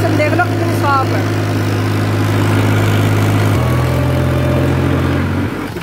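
A 2009 Balwan 400 tractor engine runs steadily with a deep, loud idling drone, its pitch dropping slightly partway through, while voices briefly sound over it early on.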